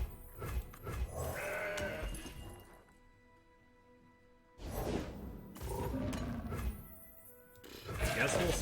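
Goats bleat in the Legends of Runeterra card game, a few short nasal calls rising out of the game audio while someone talks over them.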